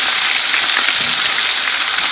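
Pieces of northern pike fry in a pan with loud, steady, close sizzling and a brief stir partway through, with no talk.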